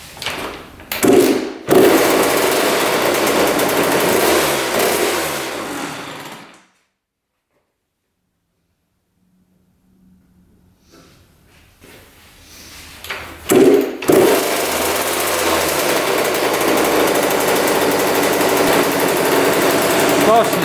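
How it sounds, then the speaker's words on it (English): Dirt bike engine idling with its throttle cable lifted by hand, a loud steady rough buzz that cuts out, stays silent for several seconds, then fires back up and runs on steadily. "We're gonna try to make this bike idle by just lifting up the cable."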